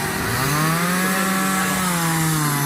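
A chainsaw cuts wood at the Western Canadian Chainsaw Competition, the engine roaring loud and close with its pitch dipping and rising slightly as it works through the log, without any talking.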